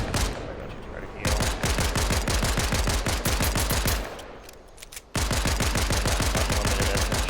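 Rapid bursts of SMG fire from a video game, long, evenly spaced automatic strings of loud shots with a short lull near the middle before the firing resumes.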